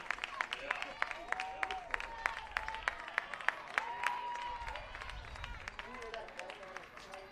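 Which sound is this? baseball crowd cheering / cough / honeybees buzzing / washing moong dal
baseball crowd cheering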